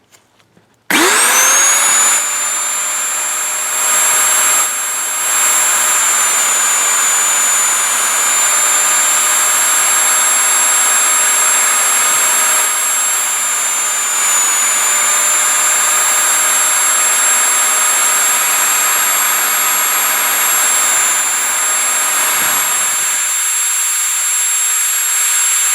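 A shop vac motor runs at full speed while its commutator is polished. It starts abruptly into a loud, steady high-pitched whine with a few brief dips in tone, and no one speaks.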